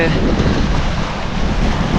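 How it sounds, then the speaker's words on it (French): Strong wind roars steadily across the microphone, a dense, continuous rumble with no pauses. "il y a trop de vent pour aller sur l'eau"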